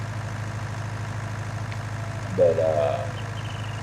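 An older John Deere 4020 tractor in Farming Simulator 19 idles with a steady low diesel throb throughout, close and even, while a voice speaks briefly over it.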